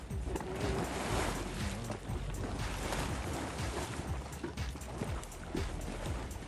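Continuous rushing, splashing water from a geyser at Yellowstone National Park, a broad wash of noise like surf breaking on a shore, steady and fairly loud throughout.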